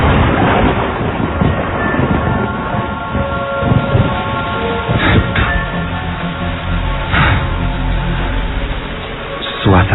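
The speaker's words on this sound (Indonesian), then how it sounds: "hujan pun turun." Heavy rain pours steadily as a sound effect for a spoken ghost story, with a few deep rumbles and cracks of thunder rising above the constant hiss.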